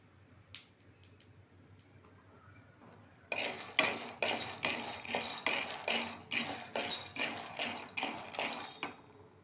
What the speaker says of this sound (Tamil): வேர்க்கடலை எடுத்து நல்லா வறுத்து எடுத்துங்க. நல்லா வறுக்கணும், சிம்மில் வச்சு வறுக்கணும்.